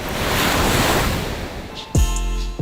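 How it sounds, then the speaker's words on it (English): Ocean waves crash along the coast of Assinie, Côte d'Ivoire, a loud, broad roar of surf with wind buffeting the microphone, ending in a sudden low tonal drone. "waves crash along the coastline of Assini, Côte d'Ivoire"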